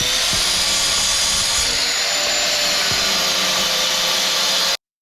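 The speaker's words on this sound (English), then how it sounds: "First I'll start with measuring and cutting my wood." A power saw cuts 2x4 lumber for a miter saw station frame, a loud continuous high whine throughout that cuts off abruptly near the end.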